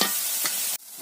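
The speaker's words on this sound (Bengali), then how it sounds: "আর এদিকে মাংসগুলো কষিয়ে নিচ্ছে" Beef is braised with spices in a pan with potatoes to follow, a close bright sizzling hiss with stirring scrapes that cuts off abruptly near the end, then a brief faint scrape; no speech.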